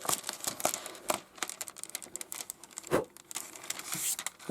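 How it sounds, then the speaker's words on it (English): Backing paper peeled from a model railway backscene sheet, crackling and crinkling in a string of close, sharp rustles and small tearing bursts over several seconds. "So I normally trim the edges, peel a little bit off"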